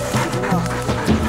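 Hunting dogs bark in short yips and woofs close by at a wild boar during a hunt. Several quick barks come in a brief burst.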